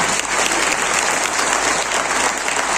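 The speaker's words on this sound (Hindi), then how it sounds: "जोरदार तालियां होनी चाहिए।" A large training-session audience breaks into loud, sustained applause, a dense, steady wash of clapping from many hands filling the room close by.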